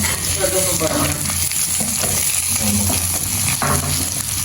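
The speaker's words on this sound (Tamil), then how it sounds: "நல்ல வடிவாக வந்து வதங்கி கொண்டு வந்து நான் தக்காளி பழத்தையும் போடுவேன்" Onions and tomatoes sautéing in a pan for a Jaffna-style dish, a steady close sizzle with occasional stirring scrapes running the whole time, no talking.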